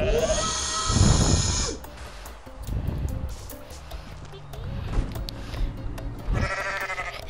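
A goat in the Goat Simulator video game lets out bleats at the start and again near the end, with a voice talking in between over game background noise.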